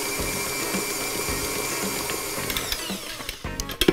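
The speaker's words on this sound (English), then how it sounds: "just speed that up and beat it for 30 seconds" An electric mixer at raised speed beats carrot cake batter as sunflower oil is added, giving a continuous whirring motor hum with faint rhythmic pulsing and a few clatters near the end.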